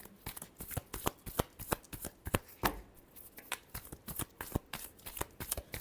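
Tarot cards shuffled by hand in a quick, uneven run of crisp riffling flicks and soft slaps, close and fairly quiet, with a brief pause midway and no talking.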